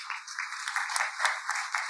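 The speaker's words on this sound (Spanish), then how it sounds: "Le damos un aplauso, ¿lo saludamos?" Audience applause at a conference in Paraná, a steady wash of clapping from a crowd lasting under two seconds with no talk over it.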